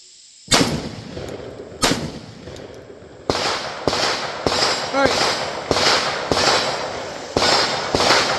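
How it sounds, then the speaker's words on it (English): A Mac 1014 shotgun fires test rounds, sharp loud reports close by: a few spaced shots, then a quicker run of about eight blasts, with ringing decay between them. "This shotgun should be running this ammo no problem."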